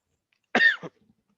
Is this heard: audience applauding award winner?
no